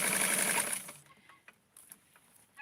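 A sewing machine stitching elastic onto doll clothes runs in a fast, steady whir for under a second, then stops, leaving a few faint soft clicks and knocks nearby.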